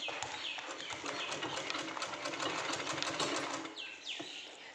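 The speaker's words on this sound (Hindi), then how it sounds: "अपनी बॉटम के पौंचे के ऊपर ऐसे लैस रखना है और ऐसे सिलाई लगाना है आपने" A sewing machine stitches lace onto the hem of a salwar bottom: a steady, fast, close mechanical whirring and clatter throughout, easing slightly near the end.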